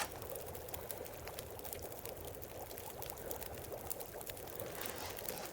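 Water being boiled in The Long Dark, a steady hissing, bubbling and rushing liquid sound that holds evenly at moderate loudness for several seconds with no talking.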